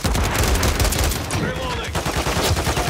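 Rapid bursts of automatic gunfire in a Call of Duty Modern Warfare Domination match, loud and dense throughout, with shouted callouts mixed in.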